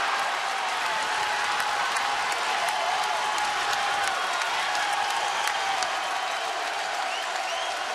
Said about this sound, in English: And now the senior night crowd's into it here in Richmond, Kentucky.